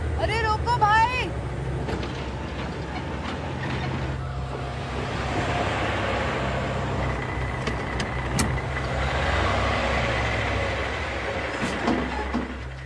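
A road vehicle rumbles along with a steady low engine drone and road noise, with voices talking and calling out over it throughout.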